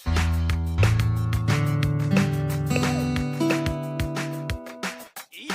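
Synthesized six-note guitar built in Nintendo Labo Toy-Con Garage on Switch, playing a run of sustained tonal notes that step through different pitches and overlap, ringing clearly and alone with no talk.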